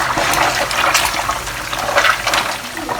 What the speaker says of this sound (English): We will fry this until it's golden brown.